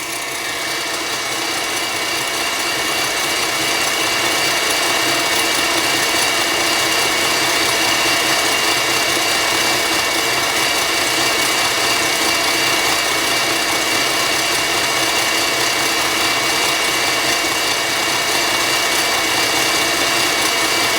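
An electric mixer whirs steadily at maximum speed for a praliné succès cake, a loud, constant, close motor drone with no break and no talking.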